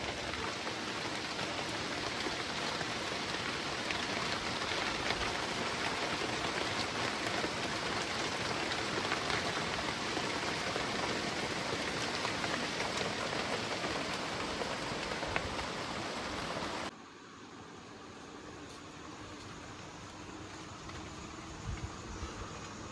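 Steady, dense rain pattering on surfaces on a wet evening, a loud even wash that cuts off abruptly near the end, leaving quieter ambient noise with a few faint knocks.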